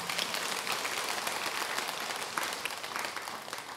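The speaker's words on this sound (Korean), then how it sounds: "잊어버리지 말라고 박수 한번 칩시다." A seated audience at a Buddhist sermon claps together, a dense, steady wash of applause lasting several seconds at a moderate level, with no one speaking over it.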